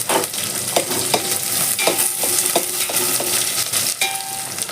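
Green chilies fry in a pan with a constant sizzle while a spoon stirs them, knocking and scraping against the metal in an uneven rhythm.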